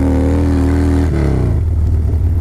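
A Harley Dyna motorcycle revs hard at close range while its rear tire spins and burns rubber, the engine note dropping and turning into a rough, steady rumble with a gritty churn underneath.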